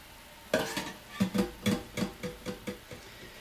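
Stock simmers and sizzles in a pan just used for frying patties, with a series of soft scraping stirs at an irregular rhythm, close and fairly quiet.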